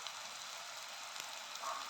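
Spices and leaves sizzling in hot oil for ghugni, a steady fine hiss at low level with no break and no voices.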